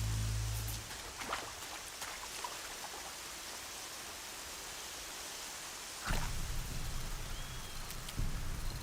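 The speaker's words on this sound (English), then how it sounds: "Oh, it's because it's raining." Rain falls steadily in the video game Horizon Zero Dawn, a continuous broadband hiss lasting throughout, with a brief louder burst partway through.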